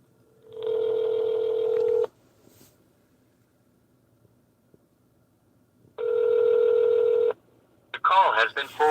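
A telephone ringback tone sounds in two long, loud bursts with a silent gap between them as a call rings out before going to voicemail; a voice starts speaking at the very end.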